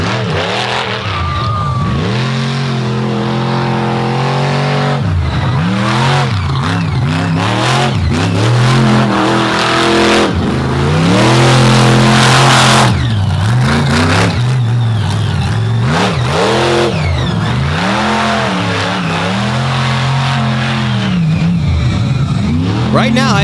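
A Chevy Silverado race truck from the Buffalo, New York area revs loudly at a race in Naples, with repeated rising and falling engine sweeps and tire noise over a continuous crowd and commentary bed.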